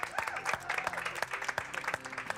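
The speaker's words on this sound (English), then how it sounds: "And a round of applause from the gallery, finally." Gallery spectators at a shooting competition clap in a short, scattered round of applause, moderately distant, with brief talk mixed in.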